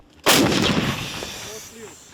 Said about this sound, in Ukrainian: британська гармата на озброєнні 80-ї бригади, яка працює зараз в районі Бахмуту